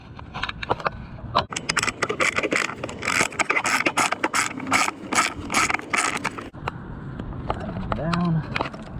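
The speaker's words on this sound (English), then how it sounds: "Screw that other nut on the end, the bottom." A nut being screwed on during a brake or clutch lever installation on a second-generation Suzuki Hayabusa, heard as rapid close ratcheting clicks and small metallic scrapes in bursts, with a voice speaking partway through.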